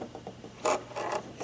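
The handwheel of a Brother sewing machine is turned by hand, producing a short run of soft mechanical clicks and ratcheting ticks, close and fairly quiet, with no voices.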